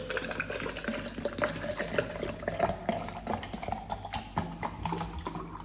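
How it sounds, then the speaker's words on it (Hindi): Water poured to fill a bottle with BCAA drink mix, a bubbling, splashing fill that carries on steadily for several seconds, close by with no talk. "अगर आप चाहते हो आधा लीटर पानी पूरा मिला सकते हो, मैं इसको पूरा भर रहा हूँ यहाँ पर।"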